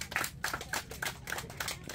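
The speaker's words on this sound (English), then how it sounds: "for that achievement, a big clap from us all." Applause for an under-9s youth football team at a season celebration, a soft, steady patter of many hands clapping, fairly quiet and distant throughout.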